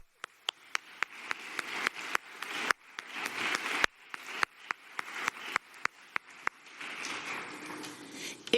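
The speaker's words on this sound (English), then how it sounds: "Please join me in giving a round of applause to these amazing volunteers." Scattered claps from a convention audience for volunteers, sharp individual hand claps spaced irregularly over a faint room murmur, thin and sparse rather than a full ovation.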